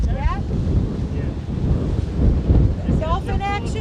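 Ocean waves washing against the jetty at Venice, Florida, heard as a loud rumbling surf blended with strong wind buffeting the microphone, with faint voices coming through.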